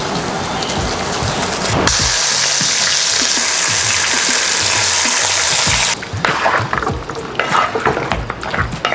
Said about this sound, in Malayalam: 2 സ്പൂൺ നെയ്യ് ഇടുന്നുണ്ട്.